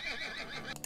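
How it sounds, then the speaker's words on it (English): A horse whinnies briefly, a high wavering neigh heard up close, with a couple of short sharp sounds at the end. "Horse."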